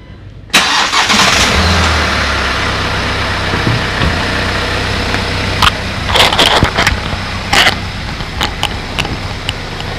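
A car engine cranks and catches at once, then settles into a steady loud idle with a few clicks and knocks over it, close by.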